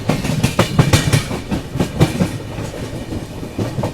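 A train running on the Katihar–Barauni line rails, wheels clattering in a steady, fairly close clickety-clack rhythm with broad rumble, heard alone without talk.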